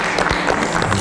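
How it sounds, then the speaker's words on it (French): A short, loud stretch of clapping from people celebrating a winner on a needle-in-a-haystack game show. "félicitations, on peut applaudir quand même."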